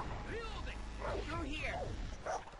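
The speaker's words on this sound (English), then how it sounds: "I hear a dog. There's a freaking dog." In the Far Cry 3 co-op campaign, a dog gives repeated yelping barks and whimpers at a moderate distance, half buried under a dense bed of game sound and a player's voice.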